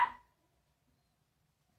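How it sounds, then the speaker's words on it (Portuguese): A dog barks twice, once at the start and again near the end, with quiet between the short, sharp barks. "Os cachorros estão latindo"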